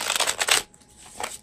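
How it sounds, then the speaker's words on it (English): Tarot cards from an Animal Wise deck are riffled in a few quick bursts, a close crisp fluttering that stops, then returns as one shorter shuffle. "So I'm shuffling a supportive card here."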